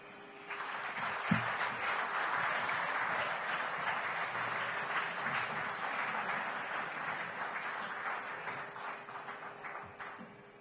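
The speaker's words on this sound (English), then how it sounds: "You can give an applause." Sustained audience applause for a folk dance ensemble, many hands clapping steadily for about ten seconds at an even, moderately loud level.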